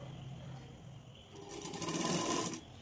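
A sewing machine stitches a blouse in a short, quiet burst of about a second of whirring, preceded by soft room hum.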